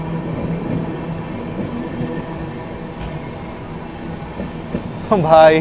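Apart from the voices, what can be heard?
Darbhanga Clone express train passing on rails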